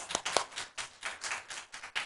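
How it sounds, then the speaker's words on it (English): Scattered clapping from a school board meeting audience after elementary school announcements, a few hands patting in uneven bursts, fairly close and thin. "Round of applause for those elementary schools."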